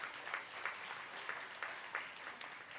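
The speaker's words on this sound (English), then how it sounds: "a round of applause to yourselves" A crowd at the Ohio State Fair 4-H Health and Safety Skit Competition applauds, a fairly faint, steady patter of clapping heard from a distance with no talk over it.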